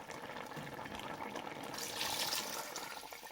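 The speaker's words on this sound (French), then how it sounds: "Encore une fois, je rajoute encore de l'eau" Water pours steadily into a cooking pot of tripe and beef-feet soup holding vegetables, chili, fresh tomatoes and onion; a close, continuous rushing splash that swells slightly toward the end, with no talking.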